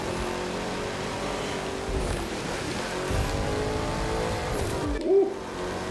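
A car engine revs and drones in The Crew 2 racing video game, a continuous layered engine note with shifting pitch and a brief surge near the end, some faint mixed game sounds beneath.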